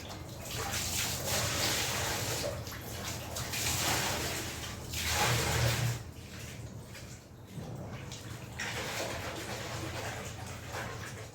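Water runs steadily into a bathroom tub to soak a winter blanket, a continuous broadband rush that swells and eases over about eleven seconds, close by and without talk.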